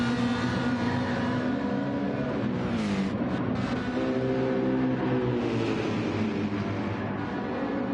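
A GT race car engine in a sprint race on the Nordschleife in a racing video game, a steady loud drone with shifting pitch as it revs and shifts, continuous throughout with no talk.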